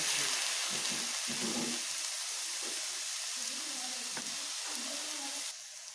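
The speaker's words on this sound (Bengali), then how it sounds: "এর সঙ্গে এই সর্ষেগুলোকে ভালোভাবে এইভাবে মিশিয়ে নিচ্ছি" Bottle gourd greens sizzle steadily in a hot pan as ground mustard paste is stirred in, a continuous close frying hiss with soft stirring. A voice speaks over it.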